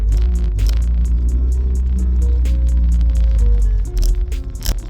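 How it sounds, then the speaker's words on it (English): Power steering on a Honda Civic EK with a D16Z6 VTEC engine gives a steady loud low drone with wavering whine tones over the idle, ending in a few clunks and a sharp knock. "Power steering is just woo."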